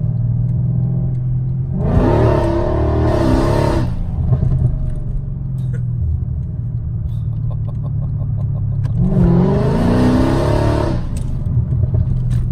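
A Mercedes car engine idles with a low rumble, then revs hard twice in loud roaring bursts, each easing back down to a steady idle.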